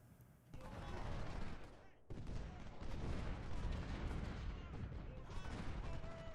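Faint, sustained crackle of musket volleys and artillery from an American Civil War battle in the strategy game Ultimate General, rolling on continuously with a short dip early on.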